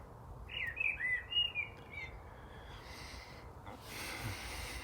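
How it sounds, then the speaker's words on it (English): A bird sings a few quick bright chirps and warbles close by, followed by quieter rustling background noise, with no talking. "the beautiful bird started singing"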